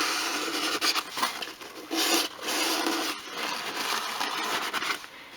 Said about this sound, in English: take a piece of kitchen towel and you can just wipe it over what you've done